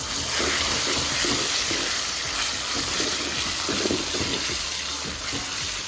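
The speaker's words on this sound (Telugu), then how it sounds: "ఈ గోంగూరను కూడా ఇందులో వేసుకొని బాగా కలుపుకుంటూ వేపుకోవాలి" Gongura leaves frying in a pan with peanuts and mustard seeds and being stirred, a steady, loud sizzle with scraping and stirring sounds throughout and no talk.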